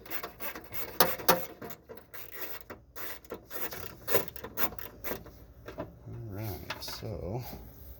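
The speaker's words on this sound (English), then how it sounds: "And out comes the air box." The air box of a Toyota Tundra is pulled out during an intake swap, bringing close plastic rubbing, scraping and knocking in uneven bursts, with someone talking over part of it.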